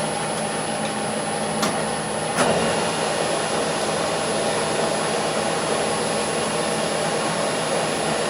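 Lathe slowly turning and cutting a tyre at 30 RPM with a 5 thou cut, giving a steady, continuous broadband whirring hum throughout with a couple of faint clicks.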